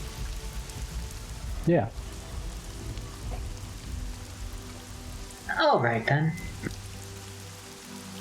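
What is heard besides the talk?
gentle rain falling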